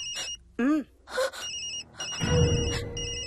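A mobile phone ringtone in a Telugu movie scene: a repeating electronic tone that rings in short bursts between other sounds, joined near the end by a low sustained hum.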